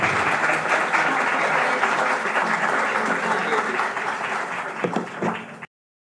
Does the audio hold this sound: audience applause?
yes